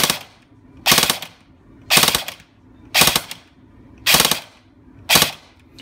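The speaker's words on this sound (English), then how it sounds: "Now this MOSFET comes from the factory with a 3-round burst." Airsoft gun with a Burst Wizard 3 MOSFET fires five sharp, loud bursts at roughly one-second intervals, each burst a tight cluster of rapid shots, with no talk.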